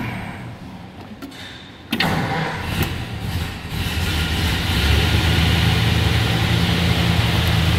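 A 1936 Ford Cabriolet convertible's engine cranks on the starter, catches with a sudden burst and settles into a loud, steady rumbling idle close by.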